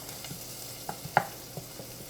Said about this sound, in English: So we'll just saute this up.